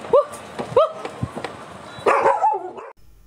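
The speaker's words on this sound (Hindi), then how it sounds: "दिन भर भौंकता है।" A dog barks in a home, several sharp close barks in quick succession followed by a longer yelping bark and a soft whimper, loud and alone.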